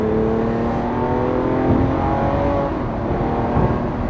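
A Lamborghini Aventador SVJ accelerates on the highway at around 70 mph, its engine a loud, steady roar with rising tones and constant road and wind noise, heard alone.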